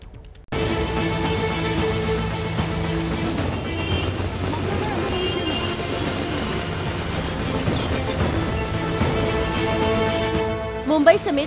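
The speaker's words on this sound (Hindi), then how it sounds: "मुंबई समेत महाराष्ट्र के कई जिलों में भारी बारिश से बुरा हाल है।" Heavy monsoon rain pours down in Mumbai, a dense, steady hiss that runs loud and unbroken for over ten seconds, with faint tonal background sounds mixed in and no clear voices.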